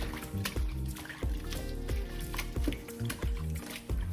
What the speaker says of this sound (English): To wash the Parsely, I'll be using water and salt.